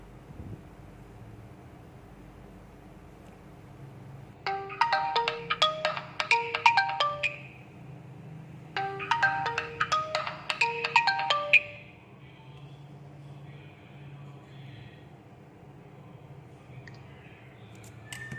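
A ringtone plays through the loudspeaker of an Oppo A3s phone after a speaker repair, two bursts of bright chiming melody lasting about three seconds each with a short gap, over faint background hum.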